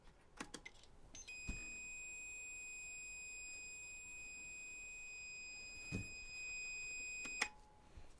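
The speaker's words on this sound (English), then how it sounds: "it just emits a long beep." A single long, steady electronic beep from an RCA MSE-3001 development system for the RCA 1802 computer holds for about six seconds, framed by a few sharp clicks before and after it.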